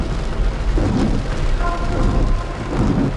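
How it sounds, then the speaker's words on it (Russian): Heavy rain pours steadily at a Crimean seaside beach in Nikolaevka in summer, a loud, dense, continuous hiss with low rumbling underneath. "Ну, прям льет."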